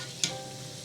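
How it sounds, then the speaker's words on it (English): Kulkuls, small curled dough sweets, frying in hot oil, giving a steady bubbling sizzle with one brief sharp crackle near the start as the batch goes in, and no voices. "And now we're going to fry our next batch."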